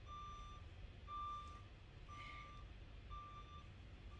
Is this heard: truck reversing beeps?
yes